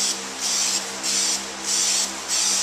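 Nightshades tint coat being sprayed from an aerosol can onto car taillights: four loud, steady hissing bursts, each about half a second long, separated by short pauses, heard close up with no talking.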